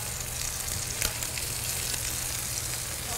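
Flipped vegetable slices fry in a hot pan, giving a steady close sizzle with faint crackles and one brief spatter, with no talking.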